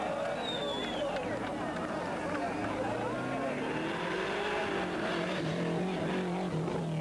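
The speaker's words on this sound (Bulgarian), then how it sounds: "Това е Константин Аур от Румъния с едно много приятно Ауди" An Audi S2 rally car in the 1995 Rally Zlatni at Aladja Monastery in Bulgaria roars past, its engine pitch sliding down as it passes, under constant crowd and commentary noise.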